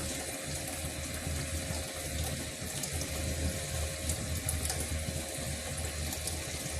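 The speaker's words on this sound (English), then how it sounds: "Look at that, that's some cold water flowing in there, huh?" Cold water pours steadily into a barrel, making a continuous close rushing gush with no pauses or talk.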